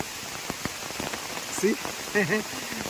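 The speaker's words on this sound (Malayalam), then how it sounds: "നല്ല മഴ കേട്ടാ." Steady heavy rain hisses and patters close by in a Kerala forest, with a few brief vocal sounds rising over the downpour.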